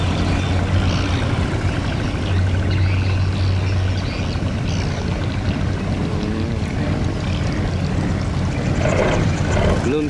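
A Vietnamese fishing boat's engine runs with a loud, steady low drone and a constant hum for the whole stretch, set against a noisy outdoor background.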